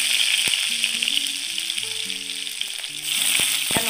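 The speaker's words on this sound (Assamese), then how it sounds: "এয়া এইফালে আলুও ফ্ৰাই হৈ আছে।" Potatoes fry in hot oil with a steady, dense sizzle that holds throughout, a few sharp spatters and pops near the end, and faint clinks of a utensil against the pan.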